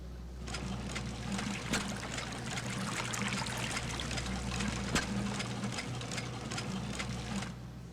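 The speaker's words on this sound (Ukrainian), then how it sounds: "Знову підіймаємо воду." Rushing, trickling water rises steadily in the video game Sherlock Holmes: The Devil's Daughter, a continuous flowing wash with a low steady hum beneath and no talking.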